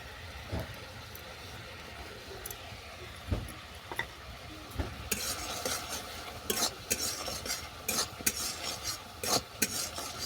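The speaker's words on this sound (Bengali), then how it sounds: "রোস্টের মশলাটা ভালো করে মিশিয়ে নিলাম" A spoon stirs roast spice mix into a jaggery eggplant chutney in a pan, with irregular scraping and clinking strokes over a soft sizzle that grows busier toward the end.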